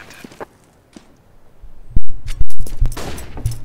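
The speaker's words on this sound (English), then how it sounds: "A lot of firefight down there." Gunfire in a Counter-Strike: Global Offensive match, with loud close bursts of shots and scattered distant firing, punctuated by sharp impacts and faint footsteps in between.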